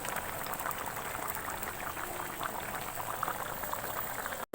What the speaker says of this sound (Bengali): এই যে আমার মাছের ঝোল ফুটছে দেখতেই পাচ্ছ